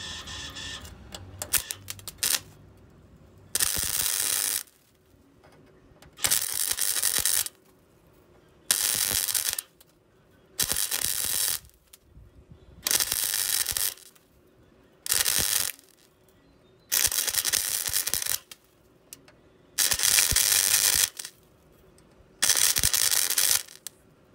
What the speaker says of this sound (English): I need new copper welding tips as well, that's why it's jittering like that.